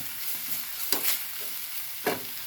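A spoon stirring a spice mixture for an omelette in a bowl, two quick scraping strokes over faint background hiss.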